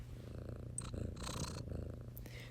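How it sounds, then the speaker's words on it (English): A pet cat purrs while lying on a person's lap indoors, a soft, steady low rumble running continuously under faint room noise. "Can you hear my cat purring?"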